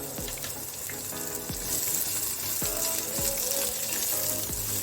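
Onion, garlic, ginger, curry leaves and dried chilies fry at medium heat in a pan for dosa chutney, giving a soft, steady sizzle with a few stirring knocks and scrapes, fairly quiet and without talk.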